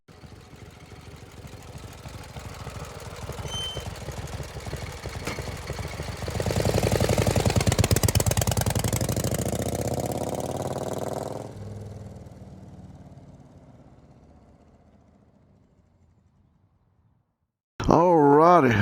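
A motorcycle engine runs steadily during a road ride, rising louder mid-ride and then fading away to near silence, before a short burst of close sound returns at the end.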